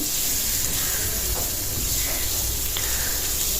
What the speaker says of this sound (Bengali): তো এখন ট্যাংরা মাছ মাখানো দিয়ে দিলাম, একটু কষাই নিচ্ছি।